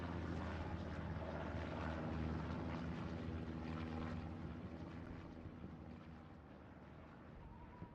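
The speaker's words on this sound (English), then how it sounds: "Recon plane for JWT goes out, and it is going to get both tanks that are alive." A reconnaissance plane in a World War II tank video game flies overhead with a steady propeller drone. It stays loud throughout, then slowly fades as it passes.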